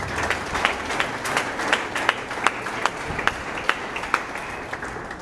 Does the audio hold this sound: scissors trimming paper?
no